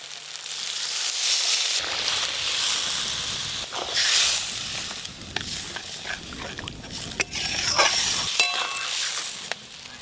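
Water poured into spice paste frying in oil in a pan, a steady close sizzle and hiss with bursts of spitting and bubbling that rise and fall across the pan.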